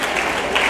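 Audience applause at a ventriloquism show for young people in Shadnagar, a brief dense wash of clapping that stays steady and fairly loud throughout.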